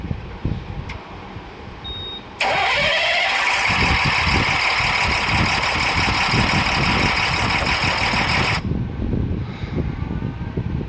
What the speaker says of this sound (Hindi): आपका जो नॉकिंग साउंड है वो बहुत आ रहा है